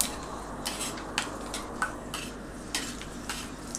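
Peanuts frying and being stirred in hot oil with mustard seeds for rava upma: a quiet steady sizzle broken by light scraping clinks of a utensil against the pan, with no voices.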